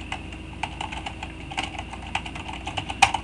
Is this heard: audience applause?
no